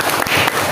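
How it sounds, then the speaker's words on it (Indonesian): Students clapping in a classroom during a Qur'an reading lesson, a brief dense burst of close hand claps. "Tepuk tangan dulu untuk kawan kita."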